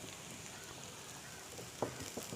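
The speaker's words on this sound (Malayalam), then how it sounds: "ഗോൾഡൻ ബ്രൗൺ കളറൊക്കെ ആകുന്നവിടം വരെ നമുക്കൊന്ന് സോട്ട് ചെയ്തെടുക്കാം." Chopped celery sautés in a pan until golden brown for a chickpea pulao, giving a steady, soft sizzle with a couple of faint utensil clicks near the end.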